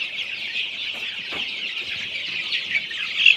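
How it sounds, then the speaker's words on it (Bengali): Sonali super hybrid chickens, about nineteen days old, cluck and cheep softly while drinking water. Their chatter forms a continuous flock murmur, with a few louder calls near the end. "মুরগিগুলো দেখেন কীভাবে পানি খাচ্ছে"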